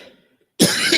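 After near silence, a single loud, close cough bursts out abruptly and carries a harsh throat-clearing rasp to the end.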